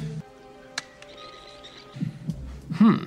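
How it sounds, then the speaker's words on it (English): A heartbeat heard through a doctor's stethoscope in a film scene plays as faint, muffled thumps over a low hum, with a louder throb near the end. "tries listening for his heartbeat"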